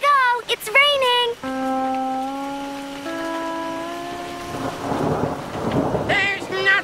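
Rain falls with rolling thunder in an animated children's cartoon. The steady hiss and rumble sit beneath tonal voices and music.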